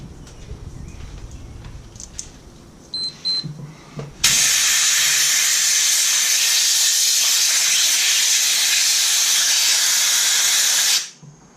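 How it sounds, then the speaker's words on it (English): Compressed air from an air compressor blasts through a gun magazine to dry it, a loud, steady hiss lasting about seven seconds before cutting off, preceded by faint handling clatter. "you can just be patient and air dry it with a compressor"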